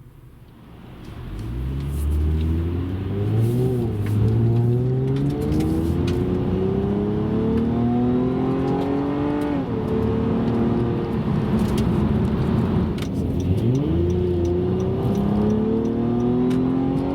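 A 2017 Honda Accord Coupe V6 accelerates on the road, its engine note climbing steadily through several gear changes, each shift dropping the pitch before it rises again, loud and close from inside the car.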